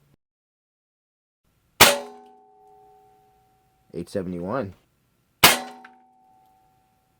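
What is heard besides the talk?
Hatsan Vectis PCP air rifle firing Barracuda pellets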